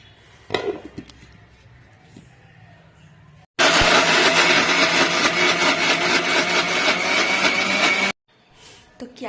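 A kitchen grinder blends shelled green peas with green chili and ginger, roaring loud and steady for about five seconds before cutting off abruptly, with quieter handling clatter before and after.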